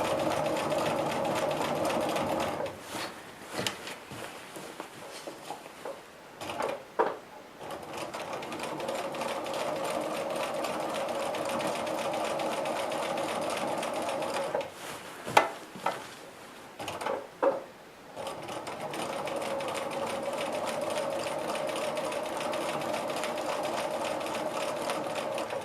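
A sewing machine quilting an orange peel grid design on one-inch patchwork hums in long steady runs, pausing briefly several times between stitching passes, close and moderately quiet with no voices.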